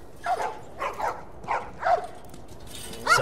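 Several dogs in The Last of Us yip and bark in an even series of five or six short, moderately close calls, with a faint background hiss between them.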